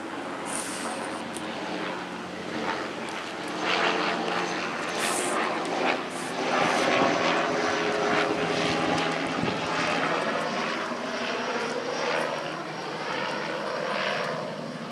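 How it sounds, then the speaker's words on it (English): A helicopter passes overhead, its engine and rotor making a loud, sustained drone that swells and holds steady. "now with the helicopter overhead I can't hear anything either"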